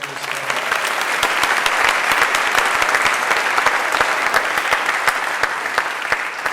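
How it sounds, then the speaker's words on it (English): A Veterans Day ceremony crowd claps for service members: sustained, crisp applause that swells and holds for over six seconds, with many individual claps audible. "a round of applause for the service members."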